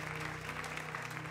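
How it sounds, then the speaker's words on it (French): An audience at an event reviewing the Christmas market gives a short burst of faint, steady applause, heard at a distance with a low hum behind it. "est-ce qu'on peut applaudir bien fort également ceux qui étaient au marché de"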